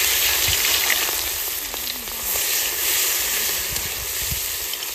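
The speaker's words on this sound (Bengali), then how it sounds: "জিরে ফোড়ন দিলাম আর পেঁয়াজটা দিলাম।" Cumin seeds and chopped onion fry in hot oil with a loud, steady sizzle and hiss, a close and continuous crackle with faint stirring clatter throughout.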